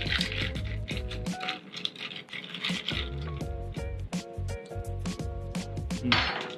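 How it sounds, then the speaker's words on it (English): A hard seltzer cocktail stirred over ice in a glass, with rapid, irregular clinks and rattles of ice cubes knocking against the sides, close and fairly loud, with no talking. "Stir again."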